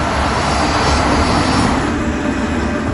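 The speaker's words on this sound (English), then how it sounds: "The KLM is getting into position for takeoff." A KLM jet airliner moves into position for takeoff, its engines giving a loud, steady roar that fills the scene without a break and with no voices.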